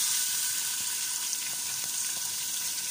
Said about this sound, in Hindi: सबसे पहले हम लोग अपने बर्तन में आधा कप ऑयल डालेंगे और इसके बाद हम लोग प्याज डाल देंगे।